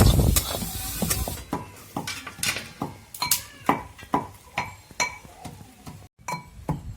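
Onion sautés in a pan for a lentil chutney, with repeated rhythmic clinking and scraping stirs over a light sizzle, close by and without talk.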